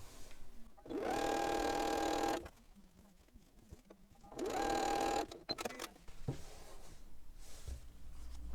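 A sewing machine stitches pieces of a quilted springtime table runner flower block, running in two steady bursts of about a second and a half each, close and loud, with quiet handling sounds between.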